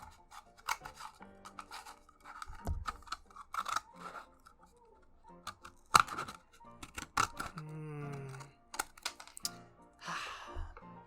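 Scissors snip into a paper Dixie cup in a series of short, sharp crunching cuts, close and quiet with gaps between them and light handling noises around.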